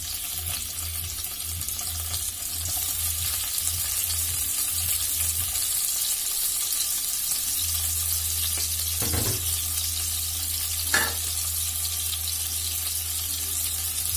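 Chopped onions drop into hot oil in a kadai and fry with a continuous hiss and sizzle, joined by a low hum partway through and a couple of brief clinks or stirs, close and steady with no voice.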